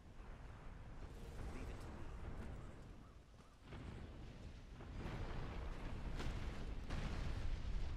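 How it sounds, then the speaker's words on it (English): Explosions in the video game Dragon's Dogma: Dark Arisen rumble as a dense, roaring wash, with a few sharper bursts. The noise swells louder toward the end. "Walking away from explosions."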